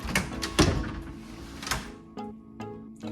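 A hotel room door at a lakeside resort in Wisconsin Dells, heard as a few hard knocks and thunks in quick succession, then softer clicks as it moves and settles, fairly close in a quiet room.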